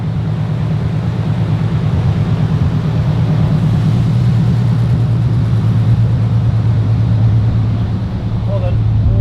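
Audi RS3 making a dyno pull at around 27 psi boost, a loud, sustained engine drone with a steady low pitch and a roaring, even texture throughout.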